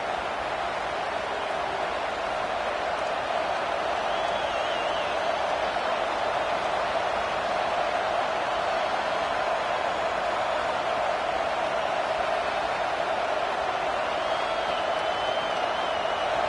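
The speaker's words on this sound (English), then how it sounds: "This crowd ready to make its presence known." A steady, dense roar from a football stadium crowd at an Arizona versus Washington State game holds evenly throughout, a continuous wash of massed voices with no single shout standing out.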